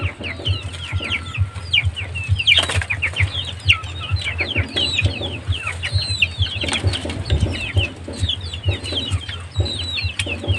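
Chicks and hens cluck and peep continuously while feeding on a mountainside farm, a dense chorus of busy calls close by, with a faint rooster crow among them.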